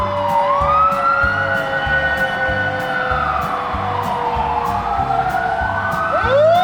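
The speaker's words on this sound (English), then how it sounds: "And then a fire truck behind it." A fire truck siren sweeps past in a holiday parade behind a police car and a pickup, a steady loud wail with a rhythmic horn or engine pulse beneath it and a second siren rising at the end.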